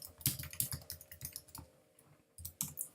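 Rapid, uneven keystrokes clatter on a computer keyboard as a message is typed, close and dry with brief pauses between bursts and no voices.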